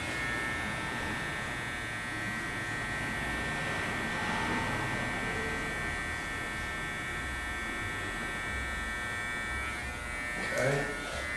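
Electric hair clipper buzzes steadily and close during a shadow fade on a combover, trimming along the temple; a continuous whine persists throughout, with a brief louder burst near the end.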